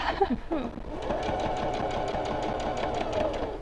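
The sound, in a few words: sewing machine stitching fabric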